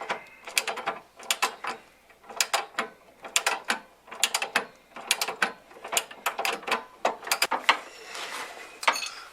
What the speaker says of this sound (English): And these get torqued also to a certain spec.